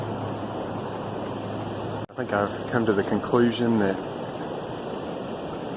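A river flows in a continuous, steady wash of water close by while someone fishes from the bank, with someone speaking briefly over the rushing sound.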